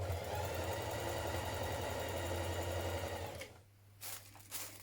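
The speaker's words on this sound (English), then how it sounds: "So sew your central seam, make sure the seam is lying to the left and then top stitch it." A sewing machine top stitching a seam on dungarees, a fast steady whirring stitch close by that stops after about three and a half seconds, followed by a few faint handling sounds.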